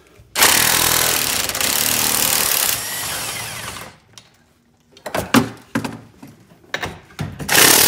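A power tool fitted with a 19 mm socket spins out the seat bolts on a Can-Am X3 side-by-side, a loud steady whir for several seconds, then tapering off, followed by short bursts and knocks of handling.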